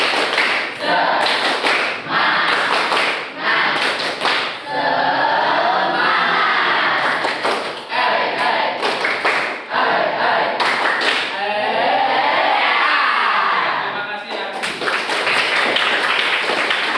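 A school class performs a rhythmic spirit clap (tepuk semangat) together, sharp clap bursts in a steady patterned beat running throughout, with voices chanting and talking over the clapping.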